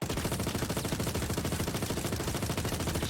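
Sustained automatic burst from a Behring FS9 light machine gun in Star Citizen, rapid evenly spaced shots rolling continuously at steady high loudness throughout.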